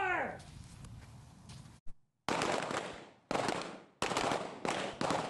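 Loud, close pistol shots at an outdoor shooting range during strong-hand and weak-hand training, a sharp crack followed by several more sharp reports spaced about a second apart, each with a short echoing tail.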